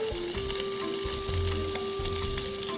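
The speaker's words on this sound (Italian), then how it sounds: "Metteremo una piccola dadolata di lardo." Small diced pieces of lard sizzle and spit in a hot pan, a continuous close frying crackle with occasional stirring, no talking over it.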